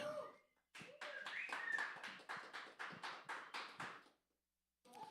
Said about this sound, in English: We're going to give a nice round of applause to RJ.